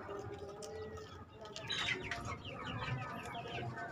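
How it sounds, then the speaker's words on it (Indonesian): Free-ranging chickens clucking and chirping close by in a steady outdoor murmur, with a few sharper calls rising over the continuous background. "Inilah kondisi ayam yang kita umbar sebagian"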